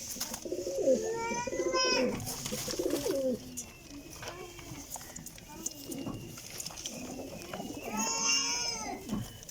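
Pigeons, including Teddy breeds, coo and burble in soft low rounds, mixed with a person talking nearby throughout; some faint higher chirps in the background, in Jhelum.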